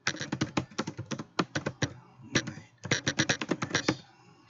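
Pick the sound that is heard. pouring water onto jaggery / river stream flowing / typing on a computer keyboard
typing on a computer keyboard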